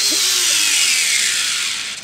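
A Vessel cordless screwdriver, brand new and uncharged, spinning freely in a short continuous whir that stays loud and steady before winding down at the end.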